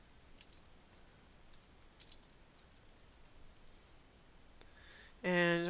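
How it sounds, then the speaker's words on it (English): Light clicking on a computer keyboard, sparse quiet keystrokes tapping close by over several seconds before a short loud tonal sound at the end. "Actually, I'll type it out."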